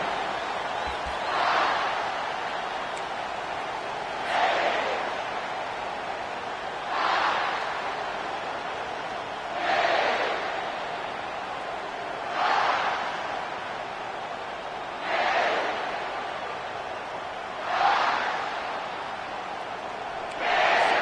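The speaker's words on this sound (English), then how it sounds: "this crowd is fired up. Listen to this noise here." A large college football stadium crowd roars in regular swells, each surge rising and fading every few seconds, heard from a distance with a steady hum beneath.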